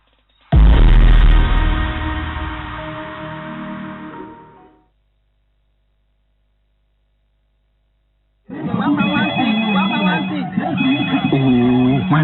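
A mobile phone ringtone sounds loudly for about four seconds, falls silent, then resumes as a melodic tune near the end, close to the microphone.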